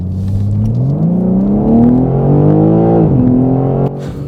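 A 2023 BMW M3 xDrive Competition accelerating hard on the road, its engine note climbing steadily through the revs, dipping at a gear change and rising again, loud and heard from inside the car.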